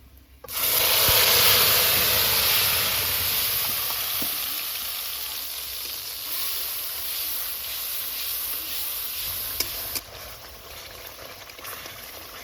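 A paste of dried and green chilli, ginger, cumin and coriander with tomato hits hot oil in a pan, erupting into a loud, dense sizzle that slowly eases into a steady frying hiss, with a clink near the end.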